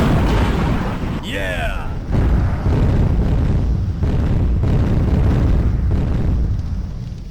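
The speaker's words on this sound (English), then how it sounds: "That's a good boss explosion, Eradicator." Boss tank exploding in the DOS game Eradicator, a loud sustained crunchy blast of booming rumble with repeated bursts layered throughout.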